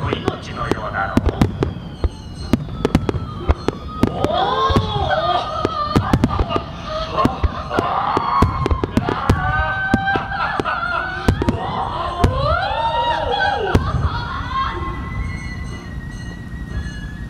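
Fireworks burst in the night sky at the Omagari fireworks festival, sharp cracks and booms scattered throughout, with whistling rising shells and crackling trails, while people talk quietly in the crowd.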